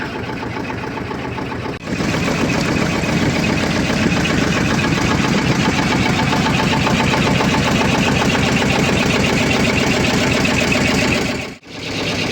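A boat engine on the Sharavathi backwaters near Honnavar drones steadily at a mid pitch, close and even, after a short quieter start.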